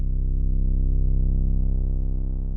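A trap soul bass synth patch built in the Harmless synth plays one sustained low, buzzy tone that holds steady and loud for about two and a half seconds, alone with no other sounds.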